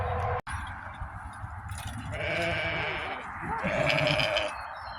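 Lambs at a farm weigh-in bleat in overlapping calls, one after another. A sharp click comes near the start.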